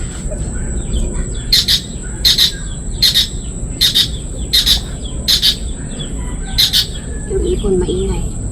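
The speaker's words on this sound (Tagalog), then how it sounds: "Yung ibon maingay." Noisy birds call outdoors in a series of about eight sharp, harsh squawks spaced roughly a second apart, over a constant high insect drone and low background rumble.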